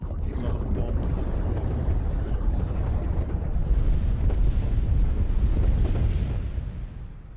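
Bombs exploding in a naval battle video game, a dense continuous rumble of blasts and booms rolling on steadily at loud level, with a voice talking over the top.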